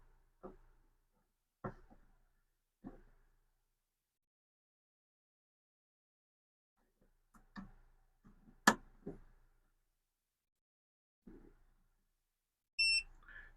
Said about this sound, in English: All we get is a beep and a blue light, but it's on.